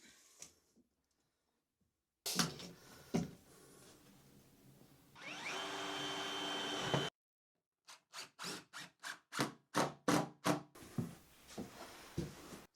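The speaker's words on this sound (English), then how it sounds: "I'm going to put some more screws in at various points" Screws being driven into wood with a power drill, a long whirring run followed by a series of short rhythmic bursts, close and fairly quiet with silent gaps between.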